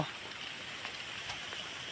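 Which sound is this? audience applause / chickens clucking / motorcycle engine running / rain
rain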